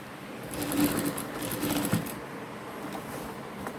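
A sewing machine runs a short straight stitch on a coat, a quick rattling burst with light clicks, fading to quieter handling.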